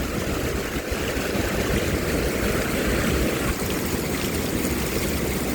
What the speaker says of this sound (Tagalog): Ating lapitan ang lagaslas ng tubig.